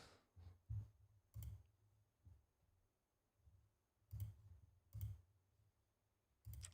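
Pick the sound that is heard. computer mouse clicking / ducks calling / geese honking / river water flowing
computer mouse clicking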